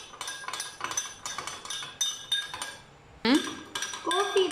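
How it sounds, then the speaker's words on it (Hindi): A spoon clinks and scrapes against a cup while coffee is mixed, with repeated bursts of rapid metallic tinkling separated by short pauses and a louder clatter near the end. "चलो दोनों को अच्छे से मिक्स करो"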